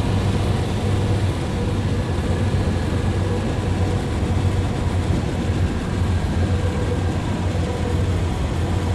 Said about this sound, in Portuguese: O trem já está na linha da trinca.